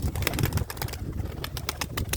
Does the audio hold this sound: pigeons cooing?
yes